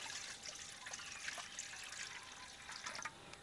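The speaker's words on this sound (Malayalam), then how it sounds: "നമുക്ക് ഇനി ഇതിൽ കുറച്ച് വെള്ളം ഒഴിച്ചു കൊടുക്കാം" Water poured into a cooking pot of soya chunks before boiling makes a steady, soft hiss and trickle throughout, faint and even with small splashes and no voices.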